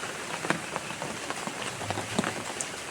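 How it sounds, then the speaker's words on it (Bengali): Heavy rain pours down steadily in a village vegetable garden, a dense hiss broken by scattered louder drops close by, with no voices. "খুব ভারী বৃষ্টি হচ্ছে"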